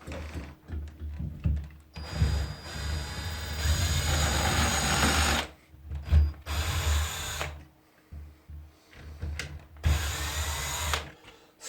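Screws being driven into a new keyed entry door lock with a power driver, several whirring bursts of a few seconds each, with short pauses and handling clatter between them, close and fairly loud.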